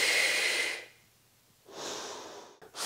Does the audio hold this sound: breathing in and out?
yes